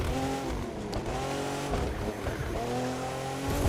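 Race car in The Crew 2, engine droning steadily with rising and falling revs, tires squealing through corners, loud and close.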